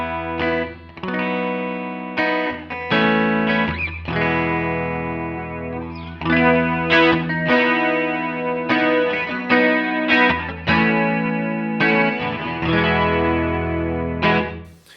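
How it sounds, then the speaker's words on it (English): A clean electric guitar runs through the HX Stomp's subtle Dimension chorus, picking a flowing sequence of ringing chords and notes with a slight shimmer, steady and moderately loud with no voices. "the chorus that I've been using, the Dimension chorus, is set to a little more subtle than some of the other ones"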